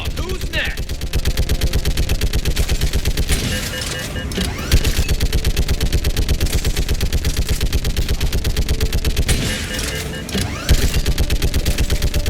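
Dense gunfire in the Mass Effect 3 video game: steady rapid-fire bursts, loud and nearly unbroken for the whole stretch, with a few sharper impacts and a voice talking over the shooting.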